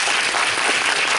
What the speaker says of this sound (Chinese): 所以我们大家是不是给柯市长一个掌声？